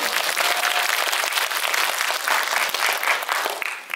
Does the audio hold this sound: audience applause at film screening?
yes